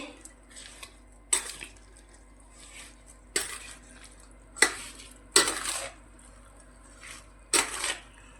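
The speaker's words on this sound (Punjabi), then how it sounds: "ਇਹਨੂੰ ਤੇਲ ਨੂੰ ਵੀ ਚੰਗੀ ਤਰ੍ਹਾਂ ਰਲਾ ਲਾਂਗੇ ਜੀ ਆਪਾਂ ਇਸ ਤਰੀਕੇ ਨਾਲ ਆਪਾਂ ਮਿਕਸ ਕਰ ਲਾਂਗੇ" Green chili pickle being stirred together with oil in a metal pot or bowl, with several sharp clinks and scrapes of a utensil at irregular intervals, close and fairly quiet, with no talking.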